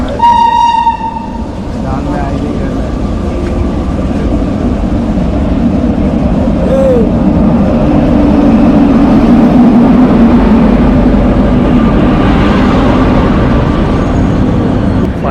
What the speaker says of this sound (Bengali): ফাইনালি আমার ট্রেন চলে আসলো one two three four two Agnibina express